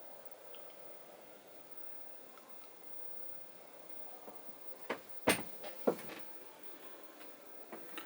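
A quiet motorhome interior, then a door swings shut with a sharp latch click, followed by a couple of smaller knocks and rattles.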